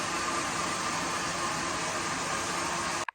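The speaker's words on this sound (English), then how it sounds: "I'm going to blast it with a hairdryer" A hairdryer blasts steadily on damp hair, a loud constant whooshing hum that cuts off abruptly at the end with a short click.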